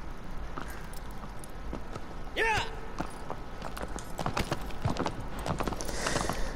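Agro the horse's hooves clip-clopping in Shadow of the Colossus, a steady rhythmic trot under game ambience with a brief whinny-like tonal sweep midway, while someone talks over it.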